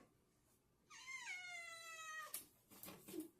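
A pet cat gives one long, drawn-out meow close by, then a brief pause and a couple of short, softer chirping cries, with no talking over it.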